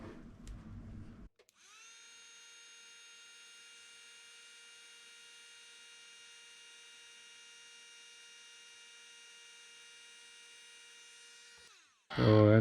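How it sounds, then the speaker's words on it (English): A heat gun blows steadily for about ten seconds while shrinking heat-shrink tubing over a female spade connector on a wire, a constant whirring hum that starts and stops sharply, with brief clatter at either end. "Then I have my heat gun."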